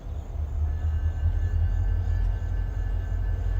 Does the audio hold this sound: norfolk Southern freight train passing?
yes